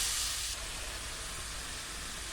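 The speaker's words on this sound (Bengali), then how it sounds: "মশলাটা আমি ভালোভাবে কষায় নেব। আর এখানে আমি সরিষার তেলটা ব্যবহার করছি।" Spice paste frying in mustard oil for a duck curry makes a steady, close hissing sizzle, slightly brighter at first and then settling into an even bubbling hiss.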